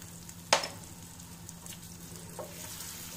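Capsicum pickle with mustard and salt being stirred in a pan, a faint steady sizzle underneath one sharp scrape of the spoon early on and a softer clink later.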